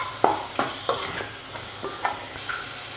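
A spatula scrapes and stirs thick masala for a non-veg kuzhambu as it sautés in a pan. Several sharp, close scraping strokes come at an uneven rhythm over a soft sizzle.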